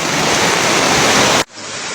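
Flash flood water rushes loudly past the front of a house in southern Malang, a dense roaring wash that cuts off abruptly and returns slightly quieter.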